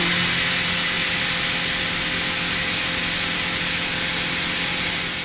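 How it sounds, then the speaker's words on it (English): A horizontal machining center mills a slot using a Big Plus tool holder in the spindle, a loud, steady, unbroken hiss of cutting and coolant with a constant hum underneath and no chatter. "Next, the Big Plus HMC holder is loaded into the spindle to mill the second slot."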